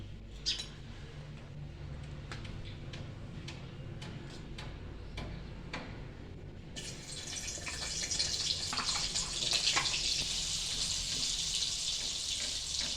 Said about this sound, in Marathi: आता ह्याच्यामध्ये हे तेल मी तापत ठेवले, तर त्याच्यामध्ये मी थोडंसं बटर टाकणार आहे